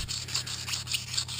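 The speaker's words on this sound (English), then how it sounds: "make sure you sand in the direction that the wheel turns" Sandpaper rubbed round and round on a wheel of a 1975 Corvette, a steady close scratchy rasp with rhythmic strokes under a low constant hum, no voices.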